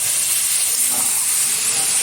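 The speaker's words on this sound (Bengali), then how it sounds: "সামান্য একটু জল দিয়ে দিচ্ছি।" Water splashed into a hot pan of ground ginger and garlic paste for chicken kosha, producing a loud, steady, close sizzling hiss throughout, with no pause.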